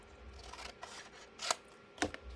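Scissors trimming a paper journal tag, a few separate crisp snips spaced apart, close and fairly quiet.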